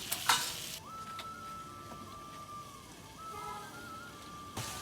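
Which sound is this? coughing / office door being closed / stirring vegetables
stirring vegetables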